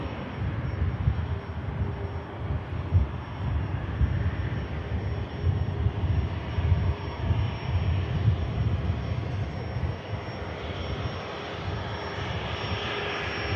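An Egypt Air airliner lands at Manchester Airport in rain, its engines a steady, loud broadband roar that holds throughout with no talking.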